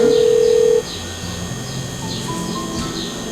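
A telephone rings with a loud, steady electronic tone at the start, cutting off abruptly after under a second, followed by quieter room ambience with faint chirps.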